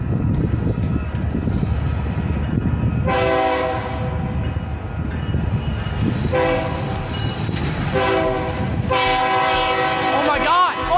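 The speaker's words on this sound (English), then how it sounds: "derail a whole ass freight train to get some awesome footage" A freight train rumbles past nearby with a continuous heavy roar, while its horn sounds in several long blasts.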